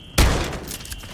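A single sudden, loud weapon blast rings out in Modern Warfare III, with a rumbling tail and scattered crackle that fade over the next second.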